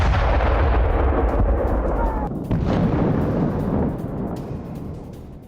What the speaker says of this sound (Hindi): रूस का इस्कंदर मिसाइल से हमला